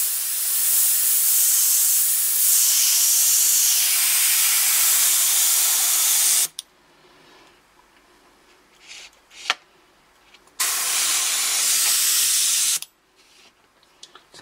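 A Badger airbrush sprays paint in a loud, steady hiss for several seconds. It stops, a few small clicks follow, then a second burst of spray runs about two seconds before cutting off again.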